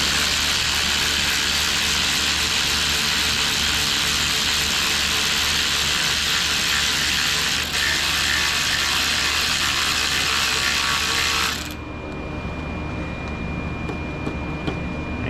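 Ratchet wrench tensioning the drive belt pulley on a 1999 Jeep Wrangler, a dense rapid clicking whir held steady and close for about twelve seconds before stopping abruptly, leaving quiet ambience.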